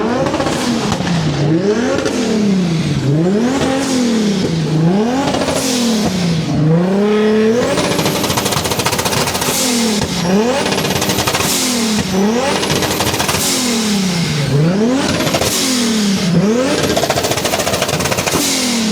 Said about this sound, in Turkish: Turbo sesi çok güzel.